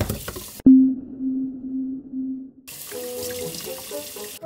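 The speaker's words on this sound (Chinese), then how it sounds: "把泥洗干净。" Running tap water rinses mud off a large taro at a sink, a loud steady gush that cuts off midway, followed by lighter splashes and handling sounds.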